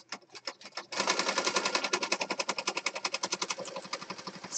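A sewing machine stitching around the edge of a painted-paper junk journal page: a few slow separate clacks, then a fast steady run of rhythmic needle strokes that stays close and loud to the end.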